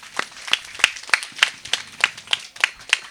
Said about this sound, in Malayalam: ദൃശ്യ നല്ലൊരു കയ്യടി കൊടുക്കൂ.